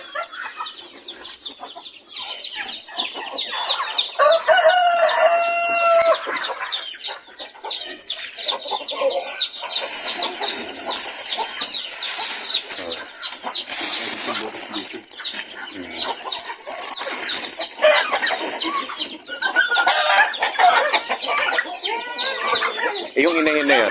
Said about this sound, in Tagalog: Yung inahin na yan.